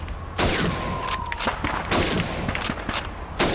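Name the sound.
rifle shots at bottles and plates in a video game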